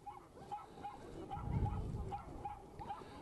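A Shetland sheepdog named Ice barks repeatedly during an agility show run, sharp evenly spaced yaps at moderate distance over arena noise, with a louder thump near the middle.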